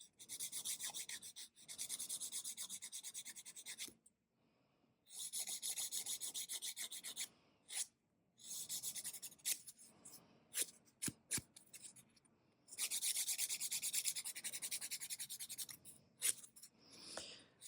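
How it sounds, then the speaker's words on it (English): Thin nail file rasping under the edges of fingernails, close and crisp, in several bursts of rapid back-and-forth strokes separated by short pauses. "this is the reason why I like thin files, because they can get underneath the edges with them"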